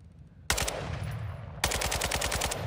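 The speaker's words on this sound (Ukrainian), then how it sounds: "то ми стріляємо" Automatic rifle gunfire in the video game Call of Duty Modern Warfare II, two rapid bursts of close, loud shots, the second longer and more sustained, following a quiet start.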